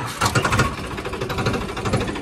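Tractor engine running just after starting, a close, loud rhythmic diesel chugging with regular knocking pulses and no talk over it.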